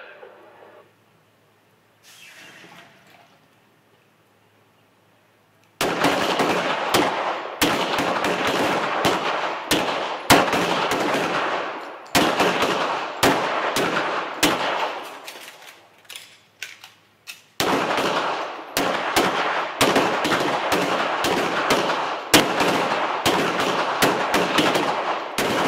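Handgun shots crack in dense volleys across a police qualification firing line, many shooters firing at once in loud, overlapping bursts after a quiet start, with a brief lull midway.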